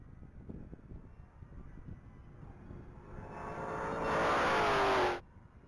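A 2016 Dodge Challenger SRT Hellcat makes a top-speed run at the Texas Mile. Its engine roar builds over a few seconds, peaks loud and close, then cuts off abruptly, leaving a faint wind-like hush.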